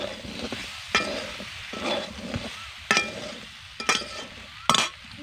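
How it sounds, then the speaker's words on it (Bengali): Shukto vegetables stir-fried with mustard paste in a pan, giving soft sizzling broken by several sharp spatula scrapes and clinks against the pan at irregular intervals. "এবার ভালো করে মিশিয়ে নেব। মিশিয়ে 2 মিনিট মতন কষিয়ে নেব।"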